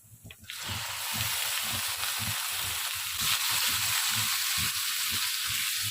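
Chicken pieces frying with crushed garlic in a pan, a loud continuous sizzle that bursts in as the meat hits the oil and holds steady, with faint rhythmic low thumps beneath, close up and without talk.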